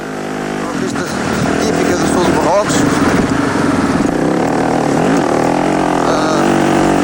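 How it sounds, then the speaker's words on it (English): Onboard ride on a BMW Boxer twin rally motorcycle crossing the desert in the Dakar Rally, its engine droning loudly and steadily throughout with shifting pitch, and a voice talking over it. "Our first real look at him on his Boxer twin BMW."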